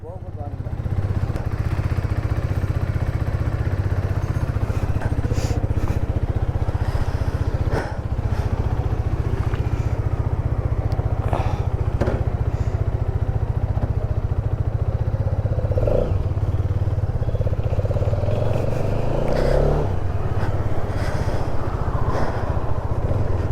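A serviced Hero Xtreme 250R motorcycle runs steadily throughout with a constant low engine drone, close and loud, with brief rises in pitch near the end as it is ridden.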